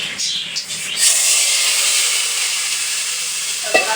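Tadka tempering for kadhi pakora sizzles in hot oil: a loud, steady broadband hiss lasting the full four seconds, with a brief sharp clink near the end.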